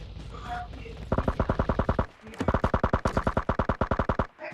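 Rapid automatic gunfire from the mobile battle-royale game PUBG Mobile Lite, two long bursts of evenly spaced loud shots, the second longer, with a short gap between them.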